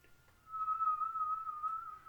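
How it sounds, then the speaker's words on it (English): A person whistles a single sustained, steady tone with slight wavering, fairly close and clear, lasting about a second and a half after a brief quiet start, with no talking. "Just do the whistle thing"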